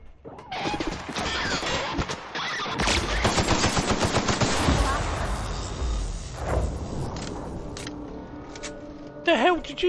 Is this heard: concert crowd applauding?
no